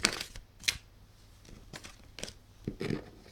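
Tarot cards are shuffled up close in a quick, uneven series of crisp riffles and soft slaps, with short pauses between the bursts.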